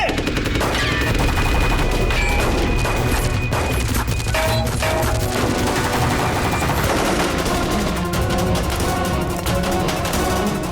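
Gunfire rages in a police shootout involving an ACP and his men, a dense, loud, unbroken barrage of shots and crashes that never lets up.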